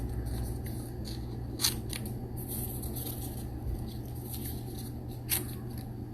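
Scissors snip paper puzzle pieces close by in a quiet room, with scattered crisp cuts, a few sharper snips standing out against a low background hum.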